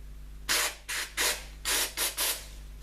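Butane aerosol sprayed into the ports of a Chevalier surface grinder under restoration, in six short hissing bursts of roughly a third of a second each, close and fairly loud, with a steady low hum underneath.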